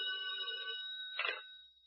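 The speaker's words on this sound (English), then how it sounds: "when the phone rang" A telephone bell rings in an old radio drama, one clear ring followed by a clunk as the receiver is picked up, heard alone without talk.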